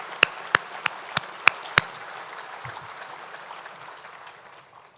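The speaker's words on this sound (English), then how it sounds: "Let's give them a round of applause for their amazing work." A few claps at an annual meeting of a chamber, where the audience applauds the staff: about six sharp, spaced claps up close, then a quieter fading patter of applause under faint room noise.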